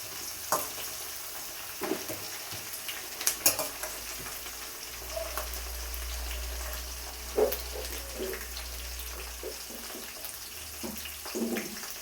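Curry leaves and green chillies fry in hot oil in a pan, giving a steady soft sizzle, with occasional clinks and stirring scrapes from a spoon and no speech.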